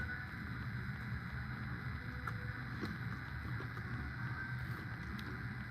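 Steady wind buffets and rumbles across the microphone in a continuous low roar, with faint background hiss.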